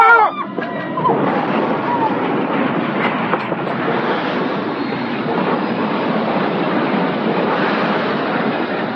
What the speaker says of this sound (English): We must have smashed into another train.